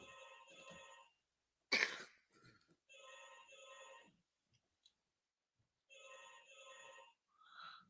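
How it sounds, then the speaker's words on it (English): A telephone rings in repeated bursts, each a pair of trilling electronic tones, with a loud cough between rings and a brief gap of quiet before the ringing resumes. "Phone's going."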